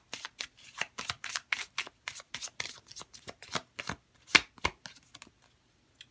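A deck of oracle cards is shuffled by hand in a quick run of crisp, papery flicks and riffles, close up and steady, ending with a few scattered taps.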